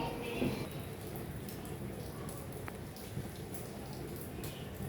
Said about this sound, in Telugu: కాస్త గట్టిగానే వర్షం పడుతుంది